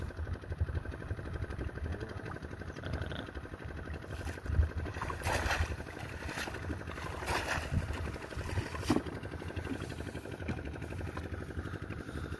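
A motorized trawler boat moves on a haor wetland, its engine putting out a steady low throbbing drone at moderate distance, with a few brief louder knocks and splashes.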